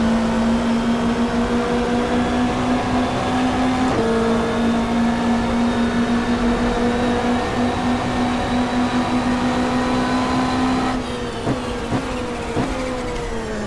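A Super Touring race car's engine is heard from on board during a 1995 race at Symmons Plains, droning loudly and steadily at high revs, with brief dips and rises as gears change near the end.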